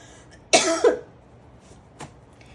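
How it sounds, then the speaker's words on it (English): A single harsh cough close to the microphone, followed a moment later by a softer throat sound, in a quiet room. "I keep coughing."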